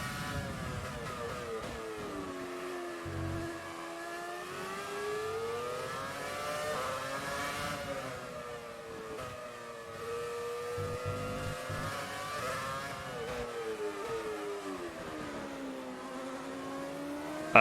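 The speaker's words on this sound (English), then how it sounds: "And that Ferrari's quick." A Ferrari racing car engine in a racing video game, droning steadily with rising and falling pitch as it revs through gears, fairly quiet and continuous with no talk over it.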